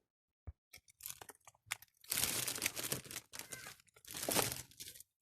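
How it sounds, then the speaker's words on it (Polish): Someone bites into Haribo gummy candies up close. Quiet, irregular crunches and chewing mix with crinkling bursts from the candy bag, growing denser in two louder stretches. "jak słyszycie takie chrupanie, to ja właśnie gryzę swoje"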